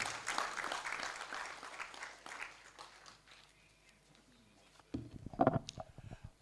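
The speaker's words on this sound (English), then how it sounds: "I think the chairman deserves another round of applause." Audience applause at an anniversary celebration event, a sustained patter of clapping that fades over several seconds before a louder, closer burst of claps near the end.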